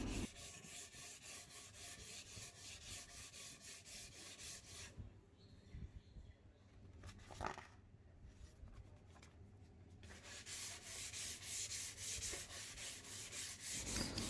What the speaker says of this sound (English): take your 240 and 400 and sand the corners of your workpiece